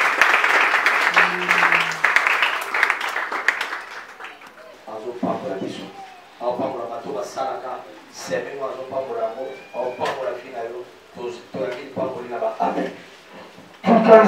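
Congregation at a Sunday church service applauding, a dense burst of clapping for a few seconds before a voice takes over and keeps speaking.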